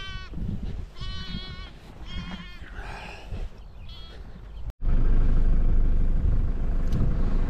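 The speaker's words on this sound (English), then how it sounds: "This is the sheep" A single ewe at lambing time bleats several times in quick wavering calls, close and clear, before a sudden loud low rumble of handling noise takes over.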